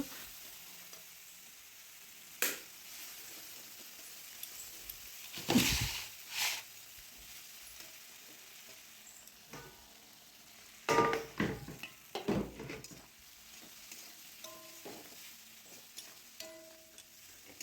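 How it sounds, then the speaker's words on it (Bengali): Leftover spices fry in a pan while prawn malai curry is being made, giving a low continuous sizzle with a few sharp clinks of stirring and scraping scattered throughout, fairly quiet and with no voices. "বাকি মশলাটুকু আমি দিয়ে নিলাম"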